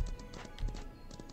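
Horse hooves clip-clop in a ranch video game, a quick light run of soft taps over quiet background.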